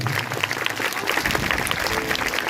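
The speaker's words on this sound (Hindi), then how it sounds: "अगर आई है तो जोरदार तालियां बजाओ" Loud, vigorous applause fills a church during a Hindi Sunday sermon, many hands clapping in a thick continuous roar with a low rumble underneath.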